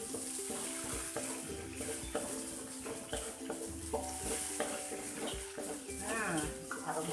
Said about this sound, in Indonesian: Kita tumis agak lama ya teman-teman